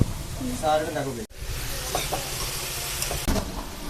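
Tomatoes dropped into a hot pan for Kerala-style chicken curry give off a steady, close sizzle and crackle throughout, with a brief thud of handling and faint voices in the background.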